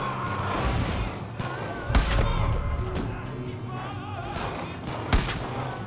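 Rapid bursts of gunfire crackle in the shooter video game Far Cry 5, with several sharper, louder blasts standing out from the continuous firefight.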